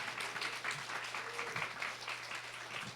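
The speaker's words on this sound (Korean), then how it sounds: "우리 교수님께 환영의 박수로 모시도록 하겠습니다" Welcoming applause for a visiting professor at a church youth group gathering, steady clapping from a modest indoor crowd that continues evenly throughout, with a low electrical hum beneath.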